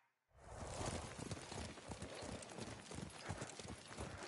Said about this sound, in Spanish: ¡Qué buen caballo!